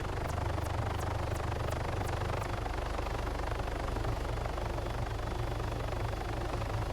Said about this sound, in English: I hear the helicopter again